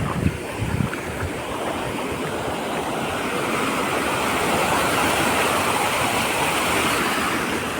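Steady rushing water of a flowing river, a continuous broad wash of sound with no pauses, fairly loud and close.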